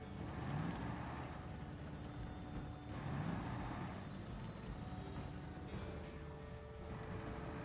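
A truck engine in an off-road driving video game, a steady low drone that swells and eases with throttle as the vehicle rolls over uneven island ground, faint and continuous with no voice.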